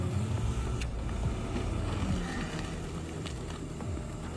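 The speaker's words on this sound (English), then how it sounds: "The Komatsu D51, weighing more than 13 tons and powered by a 130 horsepower engine, continuously digs deep around the root system while pushing soil and rocks aside." A heavy Komatsu D51 bulldozer of over 13 tons with a 130 horsepower engine digs around tree roots, its engine a steady loud low rumble with rough mechanical clatter running throughout.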